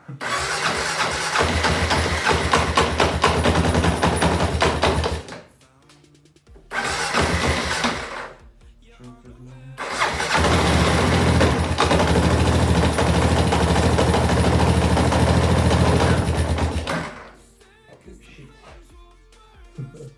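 A cheap revived €500 motorcycle engine, close and loud, catches and runs in rough revving bursts, cuts out twice briefly, then keeps running roughly before stopping; no talking.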